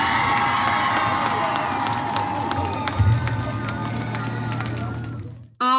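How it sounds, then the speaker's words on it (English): A crowd at a 4-H goat show applauds and cheers in a steady, dense clatter that runs for several seconds, then cuts off abruptly. "we'll give you a round of applause"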